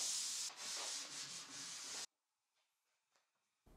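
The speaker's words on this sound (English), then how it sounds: "I denibbed with some 400 grit to get things back to being nice and smooth" Hand sanding of a wood finish on an extending dining table with 400 grit sandpaper, a loud, steady rasping rub for about two seconds that stops abruptly, leaving near silence with faint small knocks.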